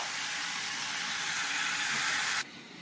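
Elephant foot yam fritters frying in a pan of oil give off a loud, steady broadband hiss that carries on without a break, then drops sharply to a quieter sizzle near the end.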